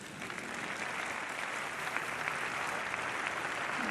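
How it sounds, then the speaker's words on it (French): An audience applauds at a French Army capabilities presentation, with steady, moderately distant clapping that continues evenly throughout. "Donc je pense qu'eux aussi on peut les applaudir."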